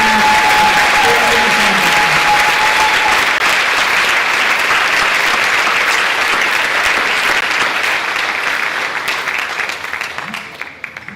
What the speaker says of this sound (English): Can we give one more round of applause for all of our top 100